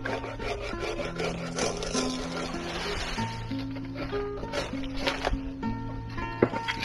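A hand saw rasps back and forth through wood in steady strokes, close by, with a constant low hum underneath and no talking.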